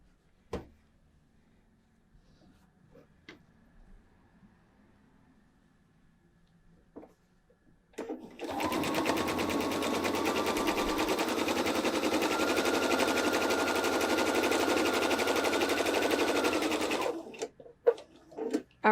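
A sewing machine stitches through a stack of fabric pieces in one continuous loud rapid run of about nine seconds, with quiet handling clicks before and after.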